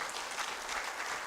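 An audience at a university anniversary and research conference opening ceremony claps steadily, a brief dense burst of applause filling the room.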